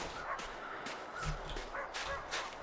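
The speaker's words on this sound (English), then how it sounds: "I'm hearing the barks." A dog barks in the survival video game The Long Dark, several short, faint barks at an uneven pace, some distance off over a soft background hiss.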